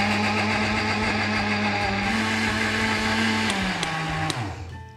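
A Faberlic blender with six steel blades runs loud and steady while making a beet and orange smoothie, its motor pitch dropping slightly near the end before it cuts off.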